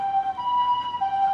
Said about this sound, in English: ambulance here